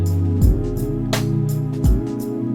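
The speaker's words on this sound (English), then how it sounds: "this neo soul version would sound something like this" Warm, sustained neo soul piano chords on the hymn He Is Lord, with rich extended harmonies, played slowly and alone, with a couple of deeper bass-note changes between phrases.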